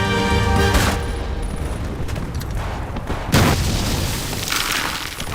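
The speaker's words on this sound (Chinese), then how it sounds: "我已经听到枪炮声了" Heavy booms and bursts of gunfire crash repeatedly, loud and close, with rumbling explosions overlapping a chaotic battle din.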